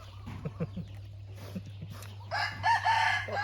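Chickens cluck close by and a rooster crows loudly near the end, over a steady low hum in a rural setting where free-range village chickens are kept.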